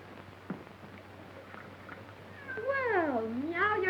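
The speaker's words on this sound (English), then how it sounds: "Well, meow yourself." A cat meows twice in quick succession from close by, a drawn-out, wavering cry rising over a faint background hum on a waterfront.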